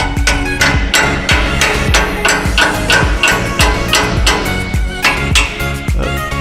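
Rapid, steady metal-on-metal hammer blows ring loud and close as a loose wagon frame is pounded, about three strikes per second with a bright clanging resonance throughout.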